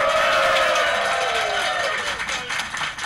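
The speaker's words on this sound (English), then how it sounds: "I think some of them are clapping twice." A convention audience at Dragon*Con claps and cheers together, a loud continuous wash of hands and voices that holds steady and only slightly thins toward the end.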